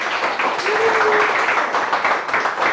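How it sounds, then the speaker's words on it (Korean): An audience at an indoor business forum claps to welcome a speaker to the stage, a dense, moderately loud round of applause lasting a few seconds. "큰 박수로 허진수 대표님을 모시겠습니다"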